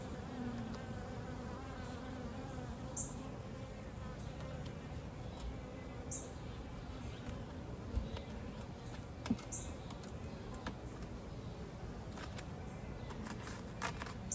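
Honey bees buzzing steadily around an open hive during an inspection, a dense continuous drone close by with occasional nearer wingbeat passes and faint handling clicks, no talk.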